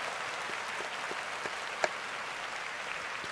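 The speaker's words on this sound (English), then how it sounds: "Can we give a round of applause to the 49ers admin?" Crowd applause for the 49ers staff, a continuous even patter of many hands clapping at moderate distance, with one sharp louder clap standing out midway.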